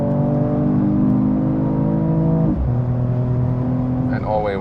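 A Mercedes-AMG E53 Cabriolet's six-cylinder engine revs up steadily with strong harmonic drone, pitch climbing then dropping at a gear change before rising again, loud and close from inside the open car.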